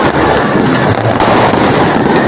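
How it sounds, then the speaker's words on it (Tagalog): Rapid, dense crackling and popping of fireworks bursts continuously, loud and close, forming an unbroken barrage. "Ano kaya tawag sa paputok na yan?"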